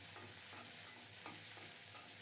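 Steady hiss of green chilies frying in a hot pan, with occasional soft stirring scrapes; no voices.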